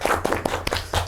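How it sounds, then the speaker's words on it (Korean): Short burst of applause from an audience at a Korean research institute science talk, many hands clapping in a dense, steady patter with a few sharper individual claps standing out. "박수 한번 쳐야 될 것 같습니다"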